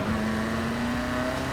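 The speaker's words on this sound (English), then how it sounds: "we have a hotshot rolling around in a Volkswagen Beetle" Steady engine drone of a Volkswagen Beetle in the racing game Need for Speed Heat, a sustained tone holding at a constant pitch for the whole short stretch, close and fairly loud with no talk.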